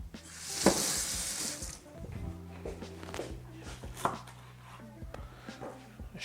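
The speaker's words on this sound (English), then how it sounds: "Chop it up some parsley." A knife chops parsley on a cutting board, irregular sharp taps scattered over a faint sizzling background, fairly quiet and close.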